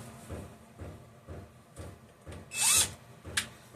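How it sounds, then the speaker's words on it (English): A power drill spinning over a Homelite XL12 chainsaw engine whirs in short repeated bursts, roughly every half second, with a sharper high-pitched whine near the end. "I'm going to spin this over with the drill"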